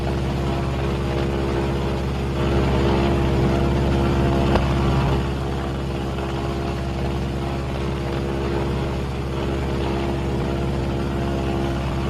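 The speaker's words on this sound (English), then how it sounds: "I'm going to feather that dead engine." The steady, loud drone of a B-26 bomber's engines fills the cabin in flight as a dead engine is feathered, a constant low hum with a slight swell partway through and no voices.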